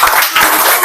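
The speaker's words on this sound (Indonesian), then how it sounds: "beri tepuk tangannya" A class of schoolchildren clapping together, a brief burst of fairly loud, close applause with no voices over it.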